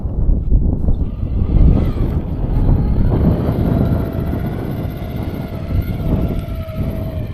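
A modified FTX Gladius RC rock crawler in first gear climbs a line of outdoor rocks, its motor whining steadily and loudly throughout, with no pause.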